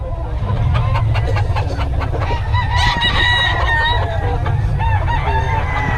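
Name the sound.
rooster crowing, Sweater gamefowl breed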